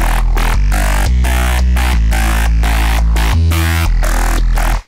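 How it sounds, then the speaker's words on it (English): A loud, dense drum and bass groove: driving drums with a steady pounding low bass tone underneath, continuous and full throughout before cutting off at the end. "this is mainly just drums and sort of one bass sound"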